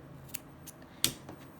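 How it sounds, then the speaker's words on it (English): Scissors snipping green yarn while crocheting an amigurumi pear, a few quiet, close, crisp snips spaced irregularly with one sharper cut near the middle. "I'm just going to cut off the green yarn"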